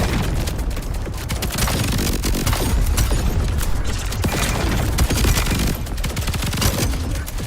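Dense, continuous video game explosions and rapid gunfire-like blasts pound throughout, loud and close with no pause, and no talking over them.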